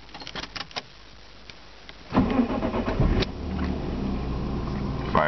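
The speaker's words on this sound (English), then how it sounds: "So let's power on the car." A 2002 Lexus IS200 engine cranks and catches at about two seconds, after a few faint clicks, then settles into a steady, close idle hum that runs to the end.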